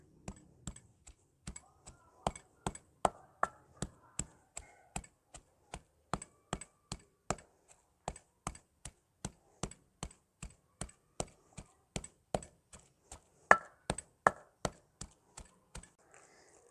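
Thin slices of fresh ginger are pounded into a paste, making a long run of faint, sharp, evenly spaced taps, a couple each second, with no speech.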